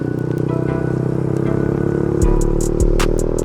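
Exhaust of an Icebear Champion 125cc motorcycle, a CT70/Dax clone with an aftermarket exhaust, droning steadily during a wheelie with a couple of thumps and faint ticking clatter, loud and close.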